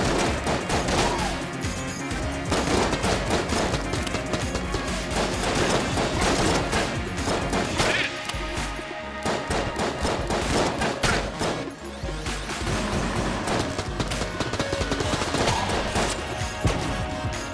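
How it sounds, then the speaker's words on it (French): Dense, continuous video game gunfire and explosions, including a grenade blast, from a battle in Enter the Gungeon, loud and chaotic throughout with no pauses. "Ça, c'est une grenade"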